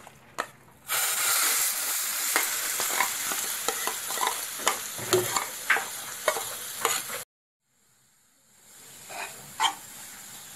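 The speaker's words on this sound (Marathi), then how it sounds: "हे मिश्रण मी असं चांगलं तेलामध्ये स्लो गॅसवरती परतून घेणार आहे" A spoon scrapes and stirs a masala mixture for stuffed bitter gourd as it fries in oil in a pan over low heat, with a steady close sizzle and rhythmic scraping, then a brief pause before quieter sizzling resumes.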